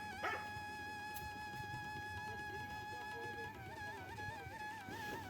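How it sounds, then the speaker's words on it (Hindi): A chained dog on a rocky Himachal village path whimpers and whines in drawn-out, wavering tones, with a short bark near the start, close by over a steady hum of outdoor background noise. "इन लोगों ने पाल रखा है कुत्ता, जो कि जोर जोर से हमें भौंक रहा है"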